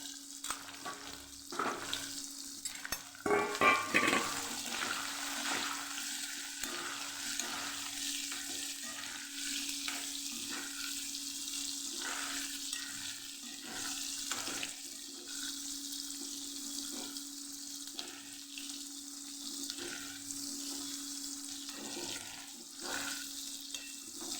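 Steady sizzling of okra frying in a pan, with a constant hiss and occasional clinks of stirring, no talking.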